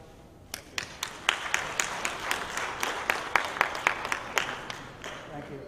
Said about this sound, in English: let's give a, a warm applause